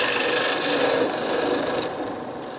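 Round nose chisel cutting into a wooden bowl spinning on a Shopsmith lathe, giving a steady, close, continuous rasping scrape that barely changes and eases slightly toward the end.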